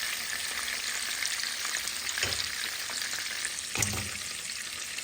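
Sardine fish and sliced onions fry together in a pan, a continuous bright crackling sizzle with two brief thuds of stirring or shifting, and no talking.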